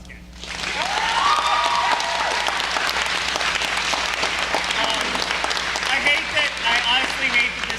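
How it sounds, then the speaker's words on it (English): An audience at a reader's theatre championship breaks into applause that swells after a brief moment and holds as a loud, steady wash of clapping, with some voices audible through it. "I just give him a round of applause again."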